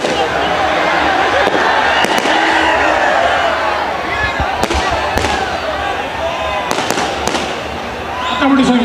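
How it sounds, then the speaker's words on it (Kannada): Firecrackers go off at the Karaga festival as sharp, scattered bangs, several in rapid clusters, while a man addresses a crowd over loud amplified speech. "ಈ ಪಟಾಕಿ ನನಗೆ ಬೇಕಾಗಿಲ್ಲ"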